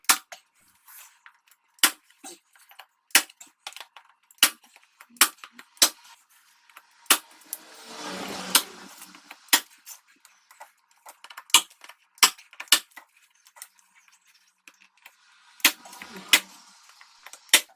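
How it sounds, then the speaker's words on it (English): A nail gun fires a rapid series of sharp, loud pneumatic bangs, irregularly spaced with short pauses, plus a brief burst of hissing and clatter midway, during a wooden sword rack build. "A nail gun."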